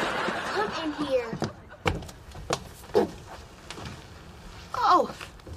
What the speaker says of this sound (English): Close the door, I'll try again.